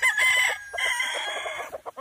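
A chicken on a farm in Balungao, Pangasinan, crows loudly and close by, then breaks into a rapid run of clucks.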